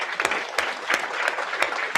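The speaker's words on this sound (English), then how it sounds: "big round of applause to all 4 teams." Audience applause for four presenting teams at a brand-week session, heard as a soft, fairly distant patter of clapping with a few sharper claps standing out at regular intervals.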